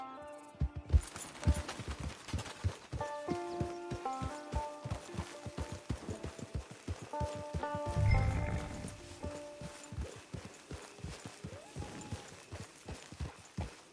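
Horse hooves clip-clop in a steady rhythmic gait in the video game Red Dead Redemption 2, moderately loud and close, accompanied by a musical score and a brief heavier thud midway.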